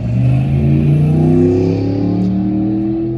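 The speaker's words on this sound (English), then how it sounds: "I'm gonna let that trash car pass by" A car drives past close by, its loud engine droning and revving steadily for a few seconds before easing slightly as it moves away.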